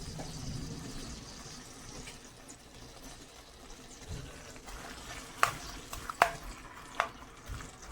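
Onions browning in oil for Lahori chikar cholay make a steady, faint sizzle, broken by a few sharp clinks and scrapes of stirring near the end.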